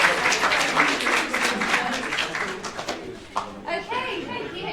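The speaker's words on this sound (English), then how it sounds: "Can we just give a big round of applause to Beck?" A group at an employability session applauds loudly at first, the clapping dense and close, then tapers off as a voice begins speaking over the last scattered claps.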